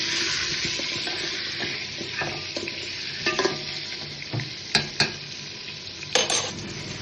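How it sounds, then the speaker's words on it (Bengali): Potatoes fry in hot oil with salt and turmeric, giving a steady, close sizzle that runs throughout, with occasional scrapes and clinks of a stirring spoon against the pan. "আলুটাকে ভালোভাবে ভেজে নেব লাল লাল করে"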